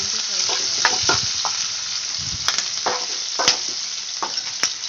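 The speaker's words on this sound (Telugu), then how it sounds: "కరివేపాకు ఫ్రై అయిన తర్వాత కొంచెం శనగపప్పు వేసుకోవాలి" Chana dal and curry leaves fry in a pan for a Telangana-style beetroot fry, giving a steady close sizzle broken by repeated scraping stirs and soft clinks, with no voices.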